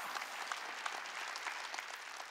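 A church congregation claps together in a steady, dense wash of applause. It sounds distant and fairly quiet, and no voices stand out.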